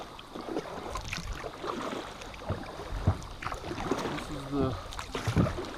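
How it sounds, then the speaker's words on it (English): Kayak paddling in an original-style Ascend FS10 on a lake in Oklahoma, with irregular soft splashes and dips of the paddle over steady wind and water noise, fairly close and moderate. "It don't take too long to paddle back here."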